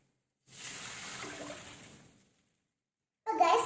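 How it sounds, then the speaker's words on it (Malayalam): A glass of water is poured into a cooking pan for noodles in a steady stream lasting under two seconds. Silence follows, then a louder burst of sound begins. "ഞാൻ പാനിലേക്ക് വെള്ളം ഒഴിച്ചിട്ടുണ്ട്"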